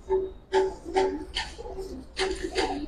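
Pigeons cooing close by in a coop, a run of soft, throaty repeated coos in uneven bursts, with faint rustling between calls.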